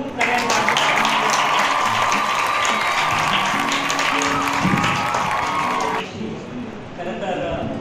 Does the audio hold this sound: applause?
yes